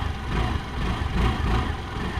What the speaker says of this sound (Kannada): So exhaust note ಕೇಳ್ಕೊಬೋದು.